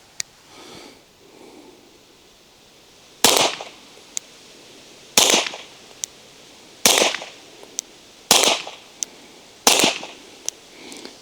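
Suppressed Stealth Arms Platypus pistol fired at paper at 25 yards: six sharp, fairly loud cracks spaced a second or two apart, each followed by a fainter metallic tick, after a soft rustle at the start.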